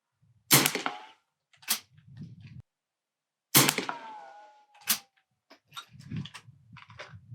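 A BSA Martini International Mark II rifle firing CCI 40-grain rimfire rounds at a range, with two sharp close shots spaced apart, each followed by quieter clicks and clatter of the action.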